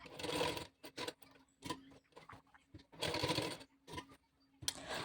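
A sewing machine stitches a simple blouse in short, stop-start bursts of rapid needle chatter separated by brief pauses, close by and moderately loud, with no talking.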